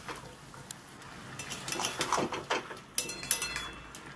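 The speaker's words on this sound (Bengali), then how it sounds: "দেখুন আমি জল দিয়ে দিলাম, ভালো করে নেড়ে চেড়ে দেবো।" Wooden spoon scraping and clinking in a cooking pot as potatoes and bottle-gourd stalks are stirred with added water for a vegetarian chorchori, irregular light knocks and rattles, louder toward the end, no talk.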